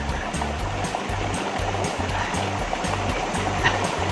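River water flows with a continuous rushing, gurgling wash, steady and fairly close, with no talking over it.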